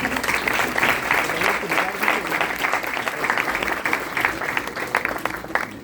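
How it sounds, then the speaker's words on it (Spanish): An audience at an academic talk applauds steadily with dense, sustained clapping that carries on for several seconds, a voice faintly present underneath. "Le damos un fuerte aplauso."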